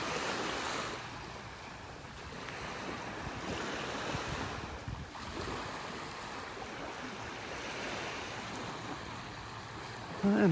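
Surf rolls and breaks steadily along a beach, a continuous wash of ocean waves with wind buffeting the microphone throughout and no voices.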